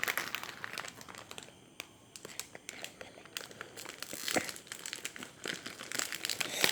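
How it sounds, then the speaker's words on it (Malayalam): A large packet of Munch chocolate crinkles and crackles up close as it is unboxed, with a dense run of sharp plastic rustles and crunches rising and falling in bursts. "മഞ്ചിൻ്റെ വലിയൊരു പാക്കറ്റാണ് ഇത് അൺബോക്സ് ചെയ്യാനായിട്ട് എൻ്റെ ഉദ്ദേശം"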